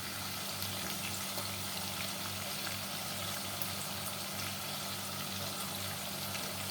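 Onions frying in oil, a faint, steady crackling sizzle with scattered small pops and a low hum running underneath.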